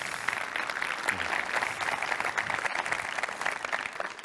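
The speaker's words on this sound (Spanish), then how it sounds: "Un aplauso." A conference audience at a Microsoft AI event in Madrid applauds a regional digitalization official, a continuous, moderately distant patter of many hands.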